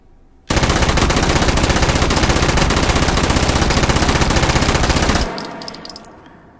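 PPSh-41 submachine gun firing in the video game Hot Dogs, Horseshoes and Hand Grenades: one long, loud, rapid-fire burst of close gunfire lasting several seconds, then stopping abruptly with ringing echo fading out.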